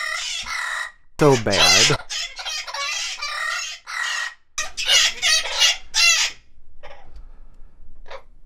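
Backyard chickens clucking with a rooster crowing loudly and close, repeated bursts of cackling and crowing, while a person says a few words.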